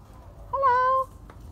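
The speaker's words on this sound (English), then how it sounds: "I need to find the white cat here," A white cat gives a single clear, rising meow, short and fairly close, in an otherwise quiet animal shelter.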